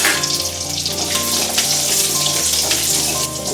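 Peeled garlic cloves frying in hot oil in a pan, a dense continuous hiss and bubbling sizzle, close and steady throughout with no talk.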